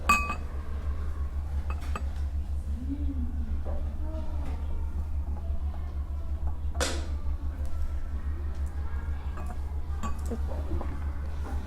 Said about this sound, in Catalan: I posarem el mirall dins del got.